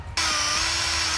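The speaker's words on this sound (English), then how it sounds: "we're gonna drill 2 small holes and one on the other side" A small power drill whirs steadily as it bores into the rear main seal of a 1987-and-later Chevy 350 engine near the crankshaft, starting abruptly and running loud and close without pause.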